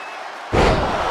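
A single heavy suplex slam in the video game WWE 2K23, during a steel cage match, hits after a brief quiet moment, followed by a sustained rumbling crowd-like roar.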